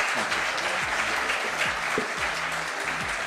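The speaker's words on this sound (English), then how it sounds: "Let's have a round of applause for that." Continuous audience applause at a summit featuring India's finance minister, a dense and even burst of clapping with faint speech underneath.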